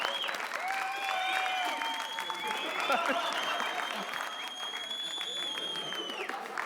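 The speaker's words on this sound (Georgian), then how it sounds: "ტაში, გავამხნევოთ შალვა" A television studio audience applauds to encourage Shalva during a Georgian talk show, a sustained clatter of clapping overlaid with rising whoops and voices.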